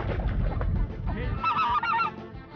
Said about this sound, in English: No time to relax with all the flocks of geese.